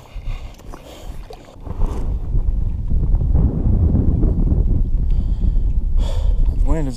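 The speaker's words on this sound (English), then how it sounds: "The wind is just making me spin around in circles." Wind buffets a kayak on reed-lined water, a steady low rumble of gusts against the microphone filling most of the clip, with a brief snort-like sound near the end.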